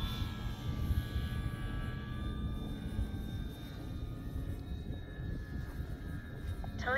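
A Dynam FW 190 Butcher Bird V3 radio-controlled model warbird drones steadily overhead with a continuous engine whine, moderately distant and unbroken by talk.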